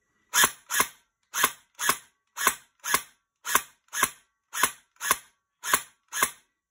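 A Fjs HK416D v4 gel blaster with mosfet fires in binary burst mode, giving a dozen sharp, close snaps in evenly spaced pairs with silence between them.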